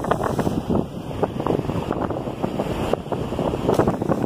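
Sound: wind at the beach

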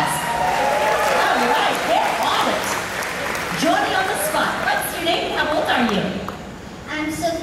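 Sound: audience applause at stunt show

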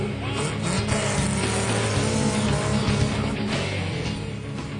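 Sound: rally cars racing through desert, Maruti Suzuki Desert Storm

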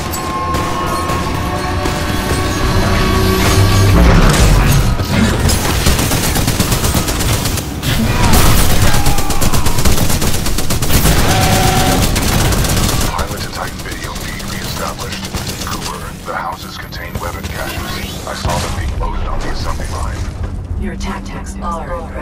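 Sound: heavy artillery gunfire in video game Titanfall 2

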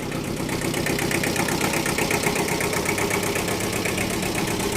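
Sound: Kubota two-cylinder small tractor engine running

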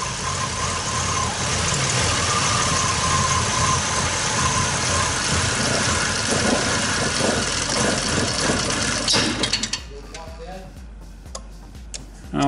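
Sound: 2003 Chevy Impala engine revving

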